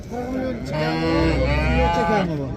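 A cow at a livestock market moos once, a long, deep, tonal call that rises and holds before fading, close and clear, lasting about two seconds with faint market background.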